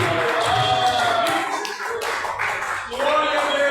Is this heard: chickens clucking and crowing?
no